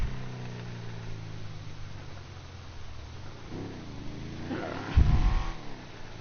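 Vapid Slamvan Custom truck in GTA Online, a low engine drone cruising steadily, then revving up with a louder rising burst near the end.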